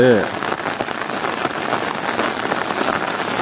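Light steady drizzle falls over flooded fields in Palani on a rainy morning, a continuous soft hiss of drops on water and surfaces, with a voice briefly speaking at the start.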